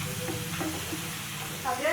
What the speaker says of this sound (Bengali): আর এখানে পেঁয়াজ আর শুকনা মরিচ আর রসুন দিয়ে ফড়ঙে দিয়ে মশলা কষানো হচ্ছে।